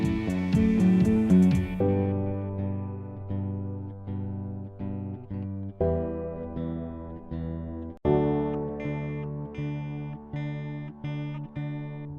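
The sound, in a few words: track ending with guitar, bass removed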